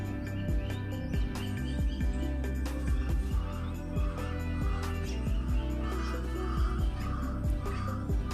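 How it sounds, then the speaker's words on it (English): Crows caw repeatedly outdoors among other birds chirping, moderately distant calls scattered over a steady background hum. "Can you hear the birds?"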